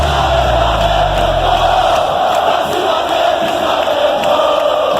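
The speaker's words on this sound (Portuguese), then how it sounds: "festa gigante da torcida do Flamengo em Aracaju, recepcionando o Mengão na entrada do hotel" Flamengo supporters roar outside the team hotel in Aracaju, a loud, dense, continuous crowd chant and cheer with no break, a deep rumble fading out in the first two seconds beneath it.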